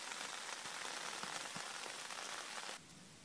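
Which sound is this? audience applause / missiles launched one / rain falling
rain falling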